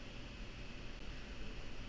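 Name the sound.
computer fan whirring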